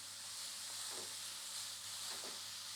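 Grated carrots roasting in hot ghee over low heat, a steady soft hiss and sizzle with faint stirring scrapes, fairly quiet and continuous with no talking.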